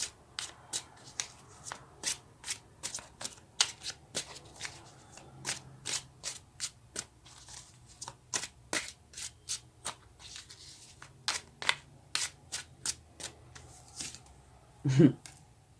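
Tarot cards being shuffled by hand, a long series of crisp riffling bursts at a steady, fairly quick rhythm, close and clear, with a brief low thump near the end.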